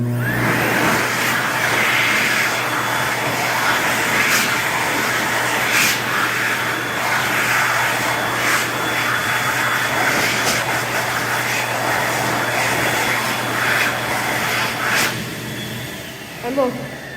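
An Excel Xlerator hand dryer in a Garden City, New York restroom, mounted in a recess kit, runs with a steady, loud airy roar and a low hum throughout, cutting off briefly near the end.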